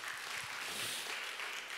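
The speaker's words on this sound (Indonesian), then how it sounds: "Tepuk tangan bagi dia." A church congregation claps during a Sunday service, a steady wash of applause with no voices rising above it.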